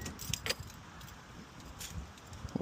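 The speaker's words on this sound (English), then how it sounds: "So now I'm going to turn the key on" Car keys jangle while the ignition of a Nissan Stagea is switched on during an ATTESA fluid flush, a few light metallic clinks close by over a low steady background.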